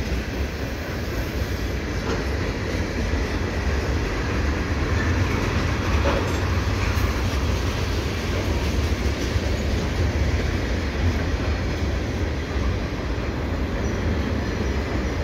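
A CN freight train rolls past at Dorval, its railcars producing a steady loud rumble with clickety-clack from the wheels and a faint squeal, continuous and close for the whole stretch.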